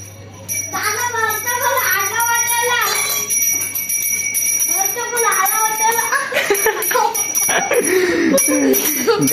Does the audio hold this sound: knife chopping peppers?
no